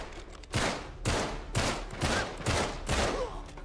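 Gunfire in Uncharted 3: Drake's Deception, a steady run of six or seven loud, evenly spaced shots roughly half a second apart, each with a short echoing tail, alone without talk.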